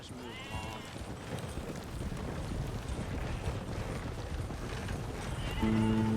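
A horse in Red Dead Redemption II clip-clops along and lets out a neigh, hoofbeats steady and close, with the whinny rising clearly over the ambient game sound.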